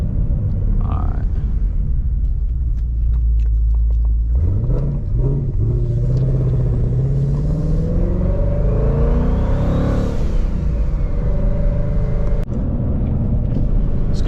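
A twin-turbo Ford Mustang engine drives along with a loud, deep rumble that climbs in pitch as the car accelerates, then settles back into a steady drone.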